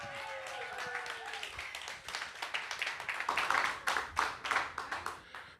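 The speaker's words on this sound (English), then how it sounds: "let's go on and clap it up. Let's clap it up for that." A live studio audience claps at a Sunday School event, the clapping building into a fast, rhythmic patter that grows louder toward the end while a voice talks over it.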